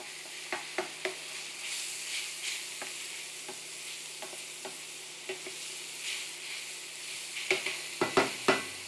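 Onion sizzling in a pan as it is stirred, a quiet steady fry broken by a series of soft scraping strokes of the utensil, a few louder clustered scrapes near the end, no talking.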